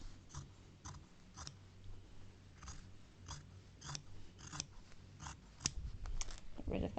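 Scissors snip through a fabric seam allowance, trimming it down to about a quarter inch while sewing bag straps and a grab handle, giving a series of short, crisp cuts at an uneven pace, with soft speech-like murmurs in the background.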